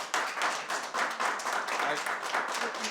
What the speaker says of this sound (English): Would again ask folks not to demonstrate, to applaud.